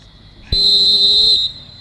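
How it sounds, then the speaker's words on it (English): A referee's whistle at an American football game gives one loud, steady blast of a little under a second, standing clearly above low crowd noise. "Wait for the whistle."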